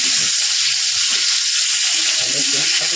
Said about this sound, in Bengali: পটলগুলো ভাজা হয়ে গেছে